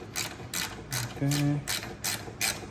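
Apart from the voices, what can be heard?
wrench tightening brake caliper bolts on a BMW 750i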